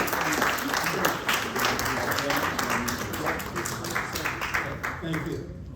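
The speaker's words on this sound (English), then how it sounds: "Let's give a round of applause for our moderator, Mr. Premier." Sustained applause from an audience at a North Miami mayoral candidate forum, dense steady clapping that holds for several seconds before tapering off at the end.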